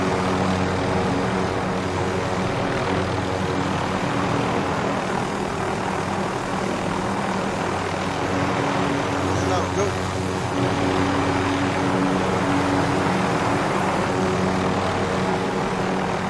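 Helicopter flying in the Call of Duty Warzone video game, a steady, dense rotor and engine roar filling the whole stretch without pause, close and loud, with players talking over it.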